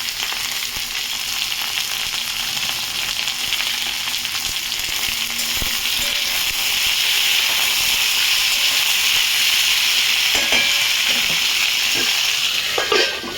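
Potato, chili and tomato sizzling steadily in hot oil in a pan, a loud continuous crackling hiss with a few small clinks near the end and no voices.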